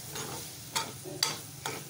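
Jackfruit masala fries in a pan for an Indian-style vegan dish while a spoon stirs it, a soft sizzle broken by three sharp scraping strokes, close and clear with no talk.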